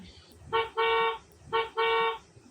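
A baby flash card device plays a bus horn sound: two double honks, each a short toot followed by a longer blast, bright and tinny, over faint room noise.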